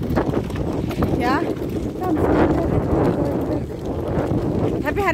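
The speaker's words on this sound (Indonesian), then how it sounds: "Kalian bisa dengar toh ini lumayan kuat berangin begitu." Strong wind blowing outdoors in a garden, a loud continuous buffeting roar rumbling against the microphone, with brief higher whistling gusts throughout.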